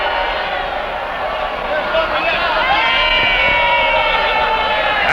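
A wrestling arena crowd loudly shouts and jeers, drowning out a wrestler on the microphone; a dense, steady roar of many voices with no break.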